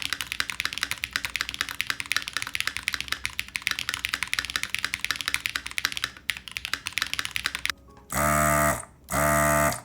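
Rapid, crisp clacking of mechanical keyboard keys typed in a fast continuous stream, close up, followed by two longer loud bursts of noise.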